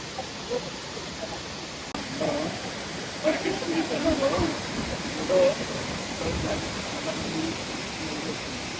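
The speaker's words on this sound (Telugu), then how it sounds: "వాటర్ ఫాల్ ఆ పై నుంచి వస్తుంది" A steady rushing roar of the Beulach Ban waterfall in Cape Breton fills the scene in the rain, with a few faint bumps and muffled voices over the continuous wash.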